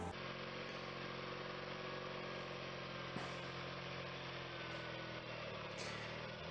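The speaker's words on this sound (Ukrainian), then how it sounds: "послухати її сам звук іменно мотора" A tractor engine runs steadily at a constant idle-like drone, a continuous mechanical hum with faint clanks, no voices present.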